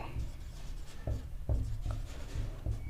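Chalk or marker strokes on a board during a grammar lesson, a series of short rubbing scratches at an uneven pace, moderately close, with a teacher's voice running underneath.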